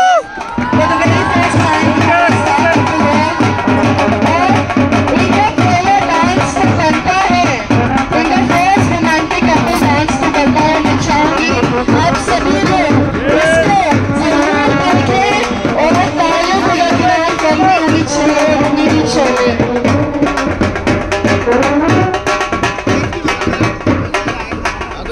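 A wedding show crowd claps and cheers at length, a dense, loud, sustained wash of applause with shouts and chatter mixed in.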